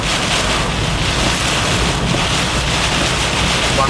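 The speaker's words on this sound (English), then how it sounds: "There's some gusty winds on the right hand side. They are very strong right now." Strong, gusty wind in a Florida storm roaring continuously across the microphone, loud and close, with broad rushing noise and no clear pauses.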